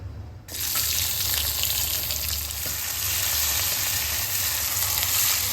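Cumin seeds hit hot oil in a kadai with a sudden loud, steady sizzle that starts about half a second in and holds strong to the end, with no talking.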